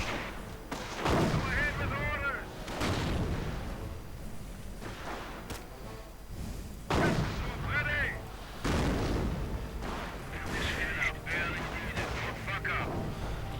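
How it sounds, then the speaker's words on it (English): Mortar rounds fire repeatedly in a 1v1 World War II strategy game match, heavy booms recurring at irregular intervals amid battle noise, with a commentator talking over them. "Mortar rounds flying above."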